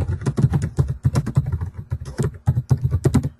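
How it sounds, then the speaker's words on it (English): Rapid keystrokes on a computer keyboard, entering a comment into a box in home inspection report software, clatter in a steady close-up stream of clicks with brief pauses. "you can then type in this box"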